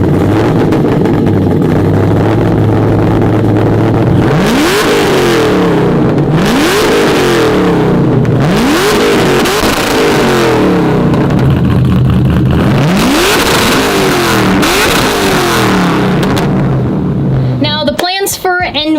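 A car from a personal collection, a drift car, starts up and revs repeatedly in loud, rising and falling surges over a steady idle, with a sharp burst of noise at the end.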